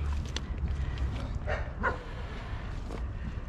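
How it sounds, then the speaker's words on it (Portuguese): Dogs bark a few times at a distance over steady outdoor background noise. "Tem cachorros latindo, olha."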